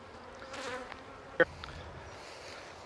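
Honey bees buzzing near a bucket hive holding a caught swarm, a soft steady hum outdoors with a single bee passing close in one brief louder buzz.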